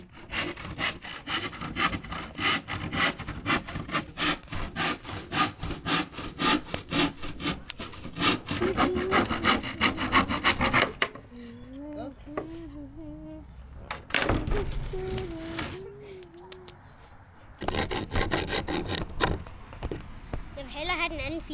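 Rapid rasping strokes of a hand file on wood for a birdhouse, loud and rhythmic, pausing while children talk and then resuming briefly.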